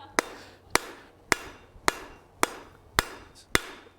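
A hammer rings on hot steel over an anvil while tongs are being forged, seven sharp metallic blows at an even, unhurried pace, close and clear with short ringing decay between strikes.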